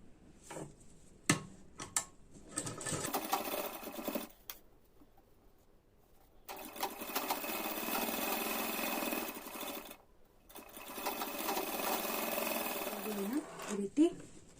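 A sewing machine stitches a folded half-inch blouse hem in two long runs of rapid, steady mechanical whirring, with short bursts and clicks and a voice speaking between.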